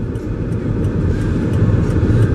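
Car driving at steady speed, a continuous low rumble of engine and road noise heard from inside, even and unbroken with no talk.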